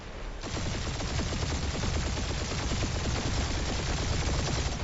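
Rapid bursts of automatic gunfire in Marvel's Guardians of the Galaxy on Xbox Series X, a dense loud rattle of repeated shots that keeps going for the whole stretch.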